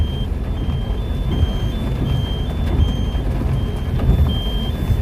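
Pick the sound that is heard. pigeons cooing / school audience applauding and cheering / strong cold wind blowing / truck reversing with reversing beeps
truck reversing with reversing beeps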